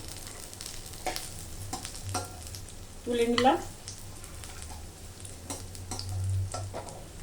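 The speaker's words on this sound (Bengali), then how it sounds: "মচমচে করে ভাজা হয়ে গেছে বন্ধুরা" Stuffed kakrol (spiny gourd) frying crisp in oil sizzles softly and unevenly under a low hum, with a few light utensil taps and a brief spoken phrase midway.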